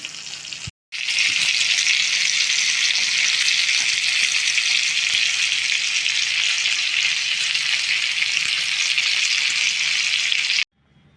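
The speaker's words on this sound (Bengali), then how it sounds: "আস্তে আস্তে এটাকে হতে দিতে হবে, কেননা ক্যাপসিকামগুলো একটু হালকা হালকা ফ্রাই হবে" Capsicum pieces for stick paneer kebab fry slowly in a pan, giving a steady, bright sizzle that runs unbroken for about ten seconds after a brief silent gap, close and fairly loud with no talk.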